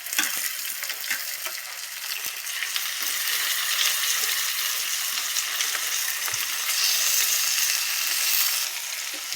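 Pigeon meat frying in spiced oil with salt, a steady loud sizzle and crackle of hot oil running the whole time, with occasional stirring scrapes and no talking.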